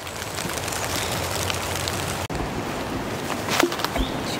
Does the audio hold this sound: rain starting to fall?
yes